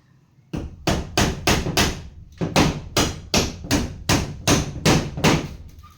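A hammer pounds on a ceiling during repair work with about a dozen loud, close, evenly spaced blows. A short break falls about halfway through the run.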